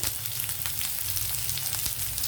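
Onions and curry leaves sizzle steadily in hot oil in a pan, a close, continuous frying hiss with faint crackles and no talk over it.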